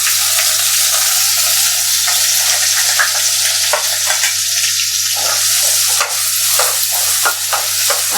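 Four cut onions sauté in a pan with curry leaves for urundai kuzhambu, a loud continuous sizzle with scattered spoon scrapes and stirring clatter, close up with a steady low hum underneath and no talk.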